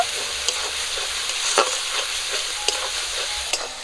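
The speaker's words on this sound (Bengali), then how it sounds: "সব কিছু একসঙ্গে একটু ভেজে নেব।" Ground spices and salt sizzle in hot oil for a pabda fish curry while a spatula scrapes and stirs the pan in repeated strokes, close and steady, with no talking.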